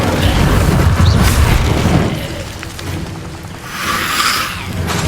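The Incendio fire spell is cast in Hogwarts Legacy, a loud whooshing burst with low rumbling booms that fade and then swell again.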